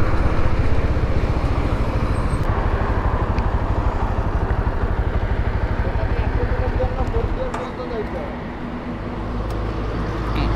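A sport motorcycle cruising in fifth gear pulls under power with a loud, steady engine drone and rushing wind, easing slightly toward the end.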